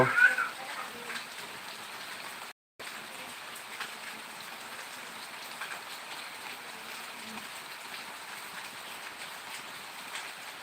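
Heavy rain falls in a steady, even hiss that fills the whole stretch, with one brief silent dropout early on and no voices.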